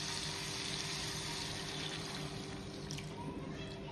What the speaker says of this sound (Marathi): आता आपण 1 ग्लास पाणी टाकू याच्यामध्ये